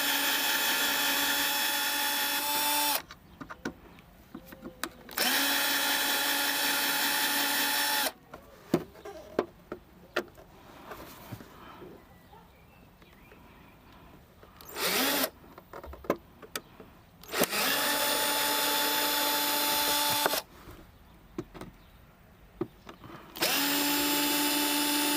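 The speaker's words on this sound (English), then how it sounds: "You just need to unscrew 4 screws and pull it out." A power drill unscrews the four screws holding a car's tail light bulb housing, running in three long steady whirring bursts with quieter handling clatter between them and no talk.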